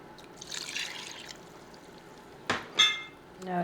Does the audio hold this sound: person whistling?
no